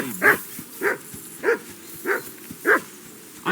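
In Kingdom Come Deliverance 2, a dog barks six times at an even, unhurried pace, each bark short and fairly close.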